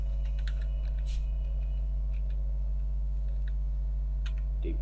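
Text is typed on a computer keyboard as scattered soft key clicks, quiet and sparse over a constant low electrical hum.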